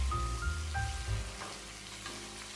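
Jackfruit curry frying in a pan: soft, steady sizzling at low volume, with a few faint tonal clinks and hums early on and no talk.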